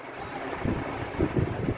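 A Pakistani Pak brand 14 inch oscillating box fan runs nearby, giving a low, rumbling whoosh of moving air that swells slightly in pulses over the short stretch.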